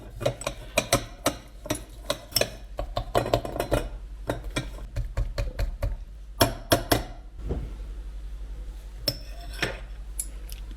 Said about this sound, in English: And we whisk it carefully in this blend with our whisk tool.